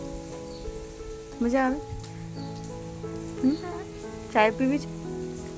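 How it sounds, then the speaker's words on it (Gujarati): Light drizzle falls outdoors in Dharamshala, Himachal Pradesh, after a rain shower, a faint steady patter of scattered drops under close conversation between people. "વરસાદ તો નથી આવતો, પૂરો થઈ ગયો, પણ થોડાક થોડાક છાંટા પડે છે."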